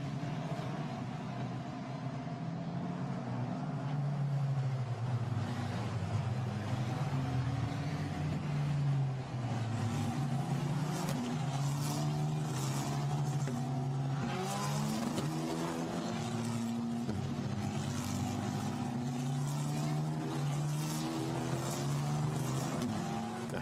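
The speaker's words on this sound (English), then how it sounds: "Safety car turns downhill." Formula Renault Eurocup safety car driving at Imola circuit, heading downhill through Acqua Minerale; a steady engine drone with shifting, rising and falling tones, loud and continuous throughout, with no talk.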